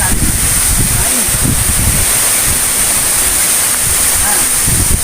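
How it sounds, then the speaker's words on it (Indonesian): Strong wind roars through a forest in the East Java interior, a loud, steady rushing with buffeting gusts on the microphone throughout. "ini angin sangat kencang ya, mulai kencang sekali"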